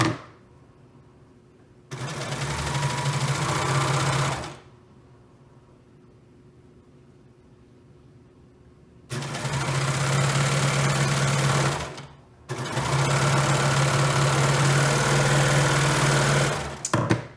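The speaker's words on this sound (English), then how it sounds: "I'm just going to continue sewing, and I will re-secure that area later." A Sawyer sew-along sewing machine runs in three bursts of stitching, a steady whirring drone that starts and stops with quiet gaps in between.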